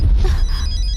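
A telephone rings in a Hindi-dubbed South Indian action film scene, a steady electronic ringtone tone sounding alone and fairly loud over a low rumbling background.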